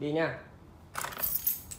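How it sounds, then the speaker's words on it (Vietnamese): Keys jangle and clink briefly at close range right after a short spoken phrase. "Lấy cái chìa khóa này."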